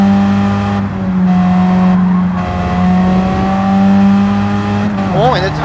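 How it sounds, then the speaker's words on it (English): A Mini fitted with an aftermarket muffler in Gran Turismo 7 races with a loud, sustained engine drone, pitch shifting through gear changes, with tire noise near the end and a voice speaking over it. "Wow, the Mini sounds good with the muffler."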